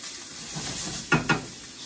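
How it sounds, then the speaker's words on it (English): Potatoes for steak hash sizzle softly as they brown in a pan, with two quick scraping stirs near the end. "as the potatoes are starting to brown, you're just giving them a nice stir every couple minutes"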